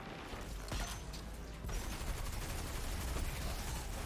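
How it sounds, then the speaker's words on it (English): A grenade exploding during a Destiny 2 Grandmaster Nightfall, a dense rumbling blast amid rapid gunfire bursts, fairly quiet and continuous throughout. "Which one of y'all threw that grenade"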